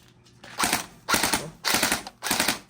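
Four bursts of rapid mechanical firing from a Sig MCX V2 gel blaster, each a short rattling volley with clacking blowback, loud and close with brief pauses between.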